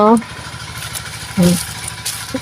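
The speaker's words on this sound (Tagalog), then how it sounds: "Ayan medyo maingay ho talaga. Ang makina ho ang ginagamit sa pagbumba." An engine-powered sprayer pump for spraying mango trees chugs in a steady low rhythm, with brief loud voices breaking in over the mechanical drone.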